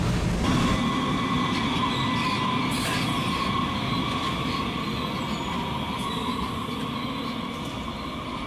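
MUNI light rail cars, built between 1994 and 2003, roll past in San Francisco with a loud steady rumble, ringing tones and squealing wheels that fade slightly toward the end.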